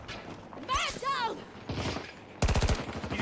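Gunfire from a Desert Eagle pistol in the video game Battlefield 2042, heard as a rapid burst of sharp shots near the end, over game noise and excited talk.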